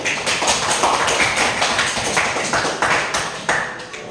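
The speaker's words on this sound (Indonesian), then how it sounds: "kita beri aplaus untuk jawabannya" Applause from a classroom of students in an Islamic religious education lesson: steady, dense clapping from many hands, close and fairly loud, running without a break for about four seconds.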